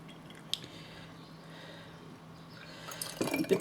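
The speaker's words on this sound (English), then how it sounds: "Pour this back into here." Milk kefir is poured back into a jar; after a quiet stretch, a soft liquid gurgle and splash rises near the end.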